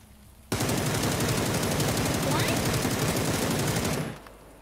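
Sustained rapid automatic gunfire in PUBG, a continuous close burst lasting several seconds before cutting off abruptly, then fading.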